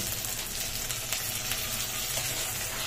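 Masala paste fries in a pan with a steady, even sizzle, a soft continuous hiss with faint crackles throughout and no voices.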